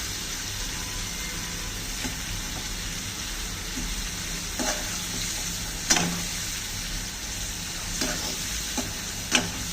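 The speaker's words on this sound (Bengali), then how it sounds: "এখন আমি টমেটোগুলো দিয়ে দেবো।" Tomatoes go into a pan of frying boal fish, setting off a steady close sizzle and bubbling with a few sharper spatters and stirring knocks, and no talk.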